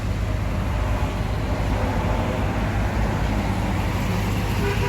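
A Sempati Star intercity bus with a Swoosh aftermarket muffler rumbles past on a road, its deep exhaust drone steady and loud amid general traffic noise, with no talk.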